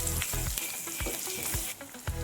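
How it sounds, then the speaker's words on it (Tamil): Tomatoes sizzle and fry in a hot pan for chicken gravy, with scattered crackles and a few scraping stirs, fairly quiet and close, with no speech. "தக்காளி ரெண்டு நறுக்கி வச்சுருக்கேன் அதை சேர்த்துக்கிறேன் தக்காளி நல்லா மசீர வர வதங்கட்டும்"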